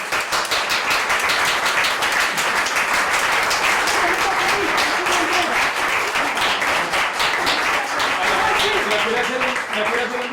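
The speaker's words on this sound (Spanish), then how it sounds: "Quiero que le demos un aplauso a Cristina Carlomario" Studio audience applause for Cristina Carlomario at a live broadcast, dense steady clapping filling the whole stretch with voices mixed in underneath.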